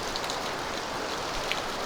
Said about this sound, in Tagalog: Padayon niya po na ang makusog na ulan